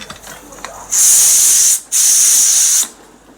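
Two long, loud bursts of hissing steam vent from a pressure cooker of vegetable curry and khichdi after two whistles, each lasting nearly a second with a short gap between, close and without talk.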